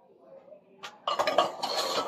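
Empty tin cans, gathered to make a recycled candy Christmas ornament, are handled and knocked together. After a quiet start there is a brief clink, then a second of close metallic rattling and clanking.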